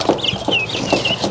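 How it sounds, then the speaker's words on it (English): Guinea fowl call out in a pen with a run of close, loud, squeaky clucks and chattering notes, repeating in quick bursts. "In here, these are the guineas."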